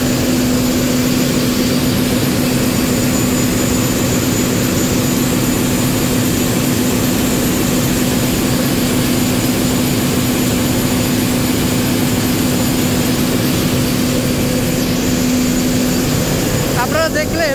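Newly installed engine roars in a river launch's engine room, a loud, constant droning hum with a steady low tone that fills the space without pause.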